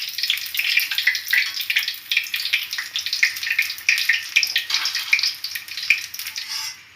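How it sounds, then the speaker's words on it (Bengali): Red boondi batter drops frying in hot oil, a steady crackling sizzle that pulses unevenly and stays fairly loud throughout, with no talking. "এইভাবে আমি লাল বুঁদিয়াগুলো ভেজে নিচ্ছি।"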